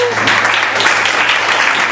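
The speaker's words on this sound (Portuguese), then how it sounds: "Pode sentar e bater as palmas bem forte para Deus." Church congregation clapping hands loudly together during a service, a dense, steady burst of applause lasting just under two seconds with a voice briefly audible at the start.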